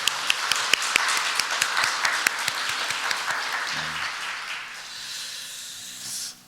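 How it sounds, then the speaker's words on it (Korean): Church congregation applauding the choir at an Easter Sunday worship service, a dense wash of clapping with a few sharper claps standing out, gradually thinning and fading toward the end. "우리 격려의 박수 했으면 좋겠습니다."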